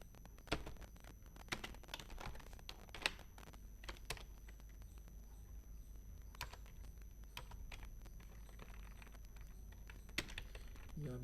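A computer keyboard is typed on steadily while a phone number is entered, with crisp close keystrokes in irregular bursts and brief pauses, alone over a faint electrical hum.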